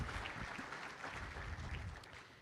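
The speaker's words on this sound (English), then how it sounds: "Would you please give them a round of applause?" Audience applauding a conference's sponsors at a regional broadband summit, a steady, dense wash of clapping from a sizable crowd that holds evenly for a couple of seconds and begins to fade toward the end.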